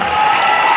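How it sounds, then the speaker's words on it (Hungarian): A dense burst of applause from an audience honouring the parents at a dance awards ceremony, loud and steady throughout, with no voices over it. "És egy nagy tapsot kérnék a szülőknek."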